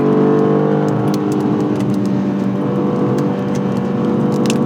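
A BMW M2 CS on Michelin Pilot Sport 4S tires revs hard on a proving-ground track, a loud, steady, droning engine note sustained throughout with no talking.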